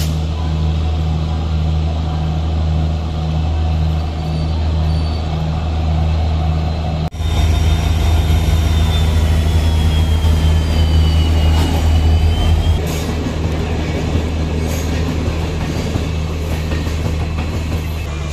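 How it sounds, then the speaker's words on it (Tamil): A WDP 4D diesel locomotive idles in a station for the Ernakulam Duronto Express, giving a loud, steady low engine drone throughout. A sharp shift marks where the rumble grows stronger and denser, with faint higher whines above it. "தூரத்தில் அப்படியே அங்கே பார்த்தீங்கன்னா நம்ம டீசல் லோகோ நின்றுட்டுருக்கு"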